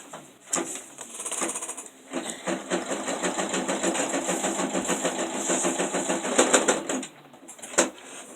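An embroidery sewing machine stitches an Easter table runner in the hoop with fast, rhythmic mechanical chatter, starting and stopping in short runs with sharp clicks between them.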